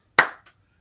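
A single sharp hand clap used as a football cadence snaps out loud and close, followed by a faint quick echo or second tap, then silence.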